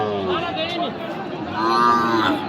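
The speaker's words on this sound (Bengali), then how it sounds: "দর্শক এই যে এই গরুটি" A cow moos twice amid a busy cattle market in Raniganj, with crowd chatter and voices in the background.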